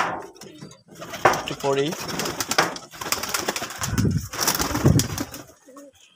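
Pigeons coo in low, throaty bursts after a deworming course, some birds still holding undigested food, while someone talks over and between the calls.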